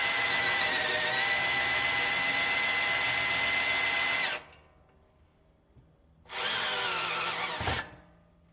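A power drill boring a pilot hole in a car restoration shop, a loud steady high whine for about four seconds, a brief pause, then a second shorter burst winding down, with no talking.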